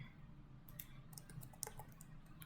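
Light typing on a computer keyboard, a quick cluster of soft key clicks in the latter half over a faint low hum, close but quiet.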